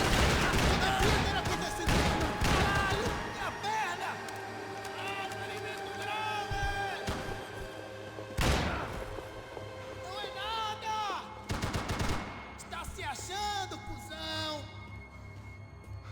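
Enemy gunfire in Max Payne 3, with bursts of shots and sharp impacts layered over game music and ambience and repeated clusters of loud cracks, while a voice talks intermittently throughout.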